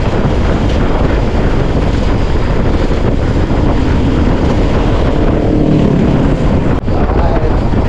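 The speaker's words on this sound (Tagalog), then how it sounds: "Lakas ng hangin." Strong wind roars steadily across the microphone, loud and continuous with heavy buffeting throughout.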